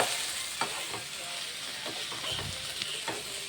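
Clam roast (kakka) being stirred in hot oil, with a steady broadband sizzle and scattered scrapes of the spoon against the pan, close and fairly loud with no talking.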